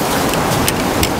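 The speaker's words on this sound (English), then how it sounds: "Inside a waterfall." Water from a waterfall pours down onto hikers on a man-made path in the Picos de Europa, Spain, making a dense, steady, close hiss and splatter with no voices.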